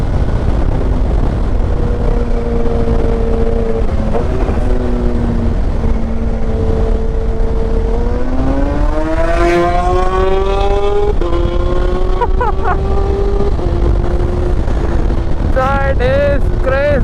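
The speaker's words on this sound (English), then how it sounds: "The inline 4 sound exhaust note is amazing." A Kawasaki H2 Carbon motorcycle with an inline-four engine screams past in a flyby, its exhaust note rising in pitch through repeated gear changes and revs before fading, with light talk underneath.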